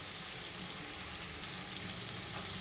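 Capsicum and tomato stir-frying in a little oil with pepper and salt for paneer Maggi, a soft steady sizzle close by but quiet, with faint stirring scrapes near the end.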